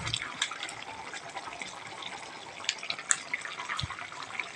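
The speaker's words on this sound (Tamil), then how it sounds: "பச்சை தேங்காய் ஊற்றிக்கலாம் கடைசியில்" Fresh coconut milk poured into a sardine pepper curry makes a faint, soft liquid trickle and splash with small drips, quiet and close, lasting a few seconds.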